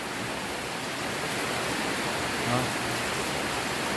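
Heavy rain pours down steadily and without a break, a dense, even hiss close by that lasts the whole stretch, with a faint voice briefly audible beneath it.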